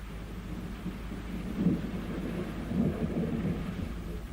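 A thunderstorm on a stormy night: steady rain hiss under low rumbles of thunder that swell twice, with no voices.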